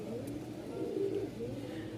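A Sirazi Lahori pigeon pair, a black hen and a yellow cock, coo softly and steadily against faint background noise.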